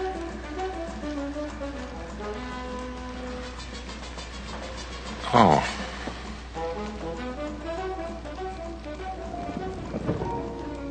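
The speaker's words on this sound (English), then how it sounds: "Well, it's drizzling." Light drizzling rain as a radio drama sound effect, a soft, steady patter heard under tonal background sound, with a brief voice exclaiming once partway through.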